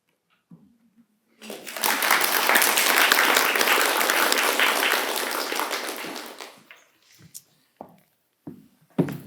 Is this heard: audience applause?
yes